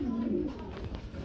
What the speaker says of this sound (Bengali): ইরানি বারহুমা এই জোড়াটা আজকে যারা বাইরের কাছে নিতে চান নিতে পারবেন